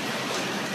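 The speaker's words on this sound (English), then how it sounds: "it is pouring rain" Heavy rain pours steadily during the Costa Rican rainy season, a dense, even wash of noise with no breaks, close and fairly loud across the short stretch.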